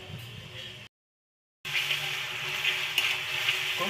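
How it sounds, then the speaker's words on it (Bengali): Ginger and garlic paste frying with browned onions in a pan, a steady hissing sizzle that drops out briefly before returning louder and denser, with faint stirring clatter. "আদা বাটা রসুন বাটাটা ভালো মতো কষাই নিব"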